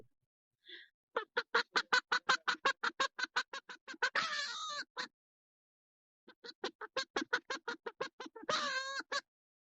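A laying hen cackles after leaving her egg: two loud, close bursts of rapid, evenly spaced squawking calls, separated by a short pause, with no voices.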